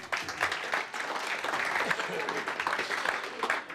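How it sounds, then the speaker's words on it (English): An audience at a TR Register gathering gives the club chairman a round of applause, a dense, steady clapping that carries on throughout with voices mixed in. "a round of applause for our chairman"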